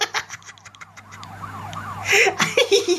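A police car siren in the city-smashing video game Smashy City wails in rising and falling sweeps amid clattering game effects, with voices chattering and laughing over it.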